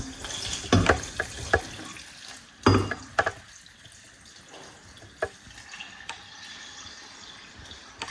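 Water splashes and pours over soya beans in a blender close by, with a few brief bursts followed by scattered drips and small knocks, no talking.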